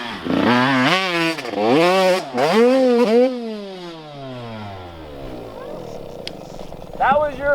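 Up close, a dirt bike engine revs hard several times, then the throttle is chopped and the clutch pulled so the engine note drops and fades away. A short rev returns at the end.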